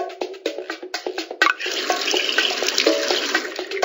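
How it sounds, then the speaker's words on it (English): Water splashing and pouring into a watering trough in a children's pony video game, starting as a quick series of drips and plops and then settling into a steady filling rush, close and clear. "Click on the watering trough to give our pony a drink."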